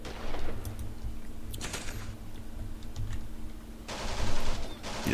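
Gunfire crackles through a firefight in the video game Achtung Panzer: rapid bursts of small-arms and machine-gun fire, some sharp and close, others fainter, with a louder cluster near the end.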